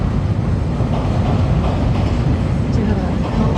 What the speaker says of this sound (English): You have a L train going across the track right there.